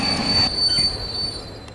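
Train wheels give a sharp, sustained metallic squeal after the emergency chain is pulled, heard during a staged Telugu TV comedy performance. The squeal is loud and continuous over a low rumble of the rolling carriages.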